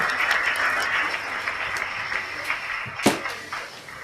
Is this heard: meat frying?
no